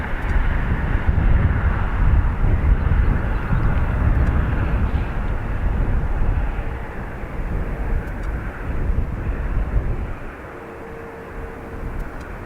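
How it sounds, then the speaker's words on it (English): An Airbus A321neo jet airliner takes off from Dublin Airport, a steady broad engine roar that stays loud and full for about ten seconds before easing off, with no talk. "One of the 321 Neos off to transatlantic route to Washington."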